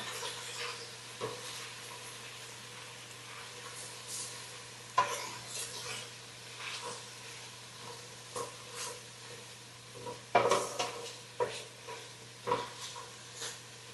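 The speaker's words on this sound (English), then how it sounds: "So you wanna just stir it up." Italian sausage sizzles quietly in a pan while a utensil stirs it, with soft scattered scrapes and clinks over a low, steady frying hiss.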